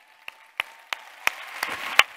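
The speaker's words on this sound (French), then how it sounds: "on peut applaudir" A small audience gives a few scattered, separate hand claps, about six in all, spaced unevenly and growing slightly louder, with no crowd noise between them.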